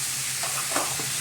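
Ivy gourd fry being stirred in a pan, a soft scraping of the spatula through the vegetables over a faint steady sizzle, close and short with no voices.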